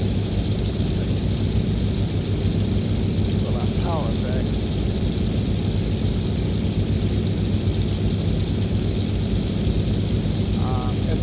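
The simulated engine of a de Havilland Beaver floatplane in X-Plane 11 drones as a loud, constant low propeller roar with no breaks, while a few faint chirps cut in briefly.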